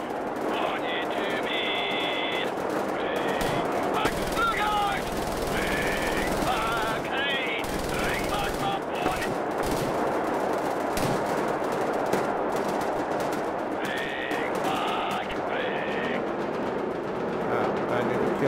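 A heavy, low-accuracy weapon firing in the Wolfenstein: The New Order video game, long sustained bursts of rapid gunfire running almost without pause, loud and close, with brief gaps between bursts.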